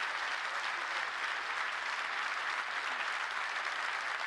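Even, sustained applause from attendees at a company division holiday sales meeting, many hands clapping in a uniform wash, fairly faint and heard alone without speech.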